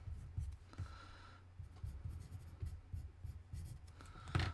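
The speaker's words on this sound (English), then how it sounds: "I'm writing on this piece of paper around what time the paragraphs stop." Pen or pencil scratching across a sheet of paper in short irregular strokes, close and quiet, with soft rubbing between marks and a brief sharper scrape near the end.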